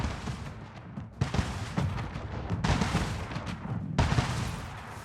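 Ships fire their cannons in the Anno 1800 video game, letting off several deep, rumbling volleys in quick succession, one roughly every second or so, with loud booming bursts over a continuous battle din.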